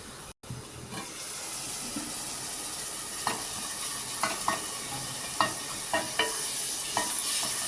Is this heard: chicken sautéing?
yes